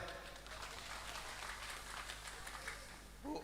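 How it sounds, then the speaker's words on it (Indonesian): Audience applause at a public political gathering in Metro Lampung, soft and fairly distant clapping from a crowd that carries steadily under an amplified voice. "Tepuk tangan untuk Pak Muzamil."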